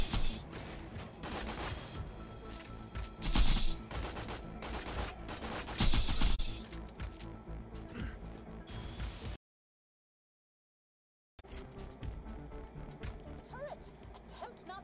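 Turret gunfire in the shooter Borderlands 2, rapid automatic bursts with heavy impacts peaking twice, then a sudden silence before quieter firing resumes, with someone talking over the action.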